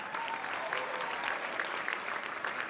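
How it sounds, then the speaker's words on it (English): Audience applause at a women's bar association installation ceremony, a steady, even wash of many hands clapping, moderately distant and fairly quiet, with faint voices underneath. "Please give her a big round of applause."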